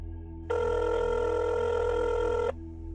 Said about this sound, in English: I pulled up my phone and started to call.